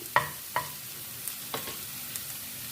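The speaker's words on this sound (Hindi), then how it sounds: "अब इसको हम अच्छे से मिक्स कर लेते हैं।" Boiled spaghetti being mixed into a chicken filling in a pan, with a few distinct scraping strokes and light sizzling underneath, close up and without speech.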